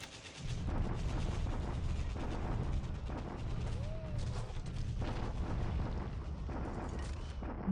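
Continuous rumbling barrage of bombardment explosions at Palembang in the War in the Pacific strategy game, dense and steady throughout with a brief whistling tone midway.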